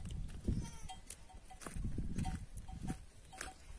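Goats on a farm, making faint scattered bleats and shuffling, with the clink of a cowbell and light knocking sounds in the background.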